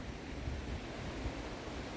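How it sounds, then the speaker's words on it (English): Running water flowing over rocks outdoors, a steady broadband rushing wash with low rumble, continuous and fairly close, no talk. "There's something about running water and water over rocks."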